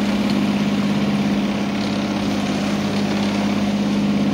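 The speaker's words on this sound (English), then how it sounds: "We put the engine on because the wind's died off a bit" A sailboat's engine runs at sea in a building swell after the wind drops, a steady, loud droning hum that stays constant over a wash of wind and water noise, with no talking.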